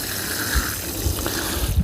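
Water poured over seedlings in a greenhouse, a steady splashing gush with low thuds from handling, continuous and close.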